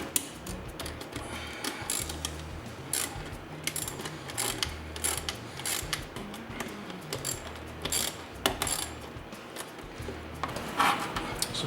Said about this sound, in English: Next step is tighten up your hose clamps. The hose clamps use an 11mm.